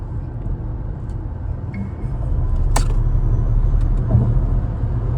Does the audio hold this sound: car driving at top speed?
yes